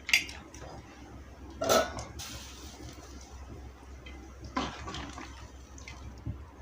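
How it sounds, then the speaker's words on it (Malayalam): Water is poured into a cooking pan for a spiced chicken gravy, a steady splashing hiss with a few metal clinks of utensils against the pan, close by and with no one speaking. "അതെല്ലാം പാകമായ ശേഷം 1 കപ്പ് വെള്ളം ഒഴിച്ചു കൊടുക്കുക."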